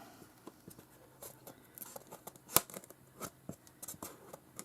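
Scissors snip through a foam floor tile in a string of short, quiet crunching cuts, close and alone, with one sharper snap near the middle.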